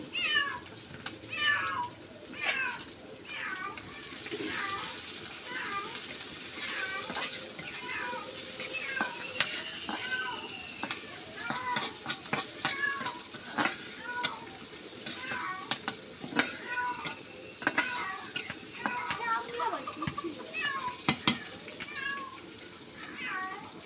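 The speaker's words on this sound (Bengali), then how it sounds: "পেঁয়াজ কুচি দিলাম, রসুন কুচি দিলাম, কাঁচামরিচ দিলাম," Chopped onion, garlic and green chili stir-frying in oil, a continuous crackling sizzle with scraping stirs, while a cat meows repeatedly over it throughout.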